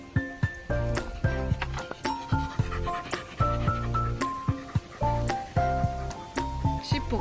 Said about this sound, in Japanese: うちのワンちゃん、美濃柴犬